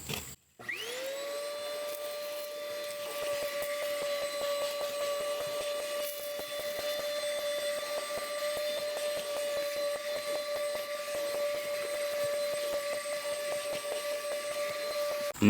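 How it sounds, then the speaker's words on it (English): Handheld car vacuum cleaning a car's interior, switching on with a rising whine and then droning steadily and loudly, with small fluctuations as it sucks up debris. "And now with the car vacuum, vacuum all of this out."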